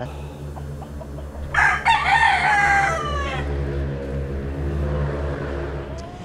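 A single close crow from a Tagalog game rooster lasts about a second and a half over a steady low hum of background noise, followed by quieter ambient sound.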